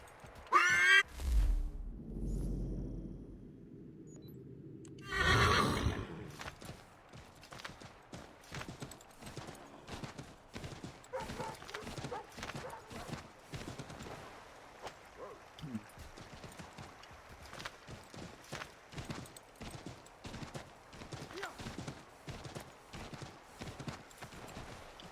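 Hooves clip-clop in a quick, steady galloping rhythm from a horse in the video game Assassin's Creed 3, following a loud whinny and a brief rustling burst at the start.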